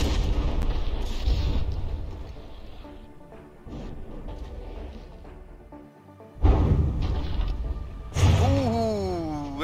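Battleships trade heavy artillery fire in the naval combat game From the Depths, with repeated booming shots and explosions, sharp bursts and rumbling blasts swelling loud near the end, some whistling shells descending.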